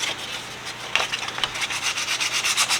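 150 grit sandpaper rubbed briskly over an old tool, a close rasping scrape in quick rhythmic back-and-forth strokes that speed up toward the end, with no voices.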